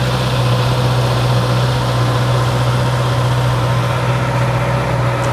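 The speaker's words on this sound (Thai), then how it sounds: "ลองบิด ลองฟังเสียงเครื่องดูนะครับ" A steady Honda CB650R 2019 motorcycle engine idle through the stock exhaust, with a low, even hum, running continuously and fairly loud, with no voices.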